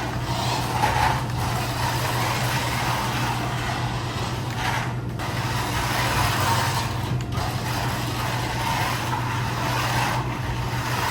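A small RC car drives and drifts nearby with a steady, buzzing electric motor whine and tire noise that holds at an even level for about eleven seconds, with brief dips as it turns.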